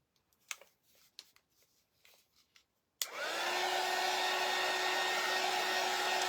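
A few soft rustles and taps of Christmas garland craft pieces come first, then a hair dryer switches on up close and blows them with a steady, loud whine.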